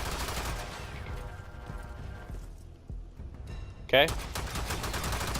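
Gunfire from the Warframe character Zephyr Prime, quick shots popping amid busy in-game action and rumble, with a sharp louder burst near the end, heard under a speaking voice.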